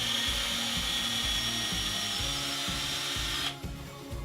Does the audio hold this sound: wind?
no